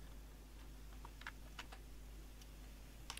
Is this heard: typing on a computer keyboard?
yes